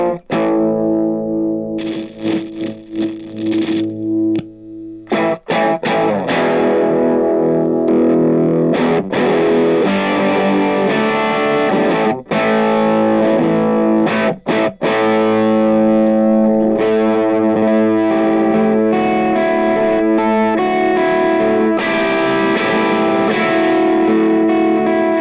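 Electric guitar played through a rare EQD effects pedal with distortion, dense gritty chords and sustained notes ringing continuously with brief pauses, loud and up close.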